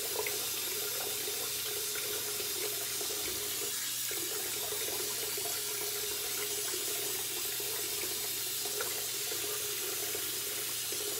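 A tap runs steadily into a sink while hands are wetted after shaving, a constant close rush of water with no pauses.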